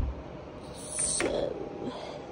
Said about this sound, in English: that is the door.